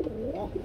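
A male sky-blue Rasgolla pigeon gives a short, close, low throaty coo, alone without talk.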